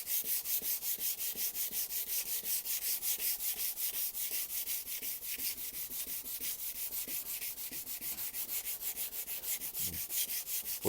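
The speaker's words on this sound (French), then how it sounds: "le but du jeu, c'est de gratter la surface tranquillement" A car headlight lens is scraped and sanded by hand in rapid, even back-and-forth strokes, a close, steady rasping rhythm running the whole time with no talk.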